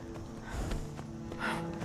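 A horse in the Skyrim video game gives quiet hoof clip-clops and a brief snort-like burst over soft game ambience, faint throughout.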